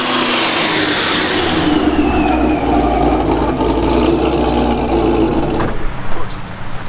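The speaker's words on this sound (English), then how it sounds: "I'm just driving the ZL1 to the UPS store." A supercharged Chevrolet Camaro ZL1 with an AWE catback exhaust drives along at a steady low rumble, then a louder burst near the end as the engine builds.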